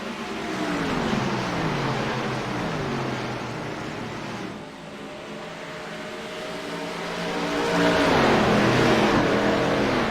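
Race cars lapping Pocono Raceway in a racing video game, engines droning and shifting pitch as they pass, swelling louder toward the end with no talk over them.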